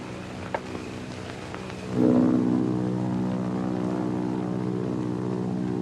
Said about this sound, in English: Might be Army plane.